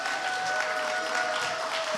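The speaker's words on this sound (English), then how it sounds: "please give them a round of applause." A church congregation gives a round of applause to couples standing at the front, a steady dense burst of clapping with a faint sustained tone running beneath it.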